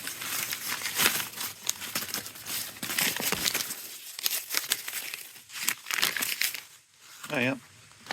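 Paper is crumpled and crinkled close up in dense, crackling bursts, with a voice briefly speaking near the end.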